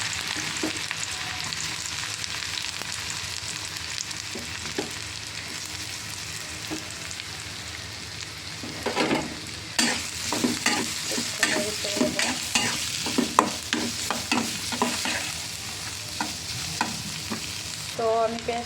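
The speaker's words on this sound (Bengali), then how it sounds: "এখন আমি পেঁয়াজটা ছেড়ে দেবো এটার মধ্যে" Onions frying in hot oil for a Bangladeshi shutki bhuna, a steady sizzle broken by repeated scraping and clinking stirs that grow busier in the second half, close and without talk.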